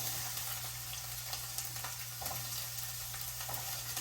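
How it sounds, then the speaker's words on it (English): Green peppers fry in a pan for a meat sauce, giving a steady, soft sizzle with light crackles and occasional stirring scrapes, alone with no talk. "into my first pan I'm going to add half of my green peppers"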